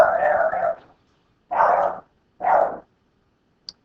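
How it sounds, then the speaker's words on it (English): A dog barks three times close by, one longer bark followed by two shorter ones, each separated by a moment of quiet. "Dog's barking."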